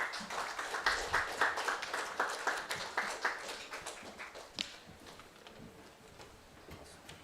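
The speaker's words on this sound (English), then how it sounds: "Let us welcome ma'am with a big round of clap." At a national safety conference, an audience welcomes a speaker with applause that starts as rhythmic, distinct claps and gradually thins out into scattered, softer clapping.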